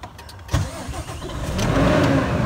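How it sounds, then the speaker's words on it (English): A 1970 Ford D-Series horse truck engine cranks and fires, catching with a sharp burst and then building into a loud, rising rumble as it settles toward a rough idle, with no voices. "I know you guys wanna hear a startup, so we will start it up"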